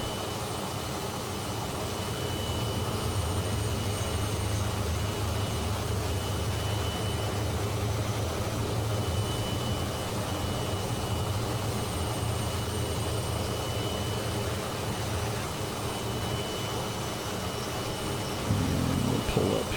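Vintage T-33 jet engine in a flight simulator game, a steady loud roar and whine held through a takeoff run, constant throughout with a brief bump near the end.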